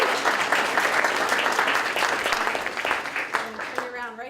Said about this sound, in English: And this is where we clap?